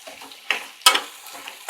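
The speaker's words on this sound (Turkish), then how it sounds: "Soğanla beraber yağ içinde ölecek. Güzelce kavuracağım." Minced meat and onion frying in oil in a pan, with soft sizzling and intermittent stirring scrapes and clinks, one sharper knock of the utensil against the pan midway; close and fairly quiet.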